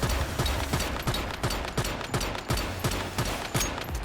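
Rapid automatic gunfire using copper ammunition in the survival shooter Once Human, a steady stream of closely spaced shots over four seconds, fairly quiet in the mix with a regular rhythm.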